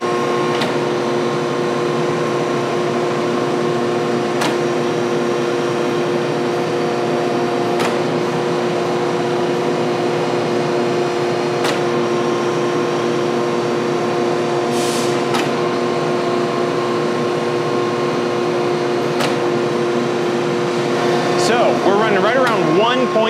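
A 12-ton H-frame hydraulic press auto-cycling through a 5-inch stroke on a 2-horsepower power pack: a steady mechanical hum and whine runs throughout, with sharp clicks roughly every few seconds as each stroke reverses.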